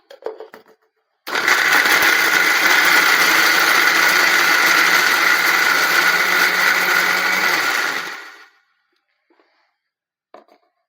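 A mixie blender grinds carrot, beetroot and tomato for juice, starting abruptly into a loud, steady whirring roar that holds for about seven seconds before winding down to quiet.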